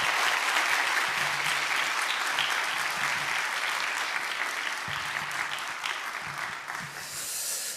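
A church congregation claps in welcome for missionary Kim Sung-joon at a Korean worship service, sustained broad applause throughout that thins and fades toward the end.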